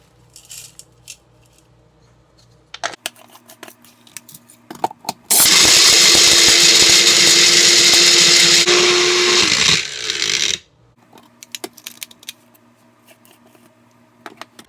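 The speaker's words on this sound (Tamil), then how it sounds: "இப்போ இந்த பருப்பு கொஞ்சம் கொஞ்சமாக எடுத்து போட்டு அரைச்சிக்கலாம்." Mixer grinder grinding lentils into masala powder: a loud, steady whirring roar runs for about five seconds, then cuts off. Brief clatters and knocks of handling come before and after.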